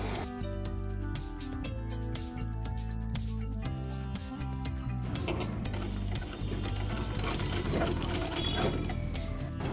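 A sewing machine stitches a cross belt for a blouse, its needle chattering in a fast steady mechanical rhythm, loud and close, running continuously without speech.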